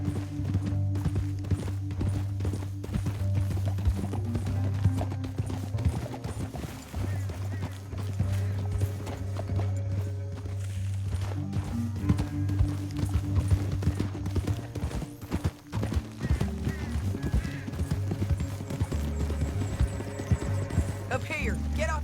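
Horses gallop in Red Dead Redemption 2, with rhythmic hoofbeat clip-clop running throughout under a steady musical score, an occasional whinny and brief bursts of gunfire mixed in.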